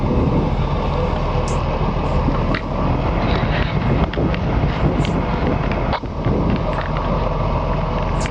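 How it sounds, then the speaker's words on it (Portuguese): Strong wind roars steadily against the microphone during firefighting, a dense continuous rumble with occasional sharp gusts and faint distant sounds beneath. "Venta bastante, né? Tá ventando muito"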